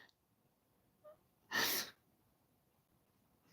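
A single close, sharp sneeze bursts out once in a quiet room, preceded by a small intake of breath.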